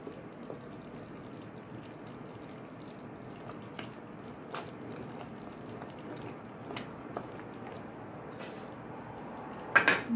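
Soft scraping and occasional clinks of a spoon stirring thick plum jam in a pot, steady and close, with a louder clatter near the end.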